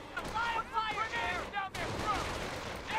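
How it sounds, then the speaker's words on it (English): Mortar blasts and gunfire from the Company of Heroes video game crack and thump in quick bursts, with chirping game effects and someone talking over the battle. "Oh, fuck, there's a mortar."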